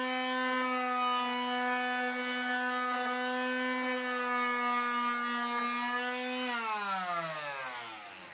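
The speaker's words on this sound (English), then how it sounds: "we'll just hit it real quick with a sander." A power sander runs on plywood edge banding, holding a loud, steady motor whine with a strong buzzing hum that then winds down in pitch as the tool spins to a stop.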